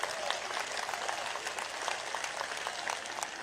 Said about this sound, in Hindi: तो एक बार तालियों के गड़गड़ाहट से स्वागत कर दीजिए